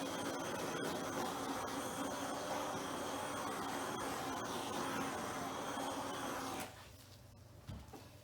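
A handheld torch blows over a fresh acrylic straight pour to pop air bubbles, giving a steady close rushing hiss for about six and a half seconds before cutting off to quiet room tone.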